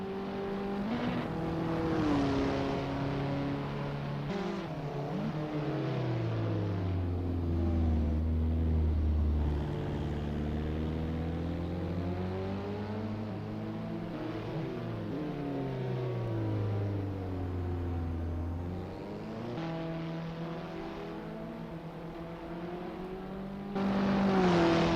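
Abarth 500 race cars lapping in practice at Pau in the Assetto Corsa game, engines droning and revving up and down through gear changes, several cars overlapping in a steady, fairly loud engine hum.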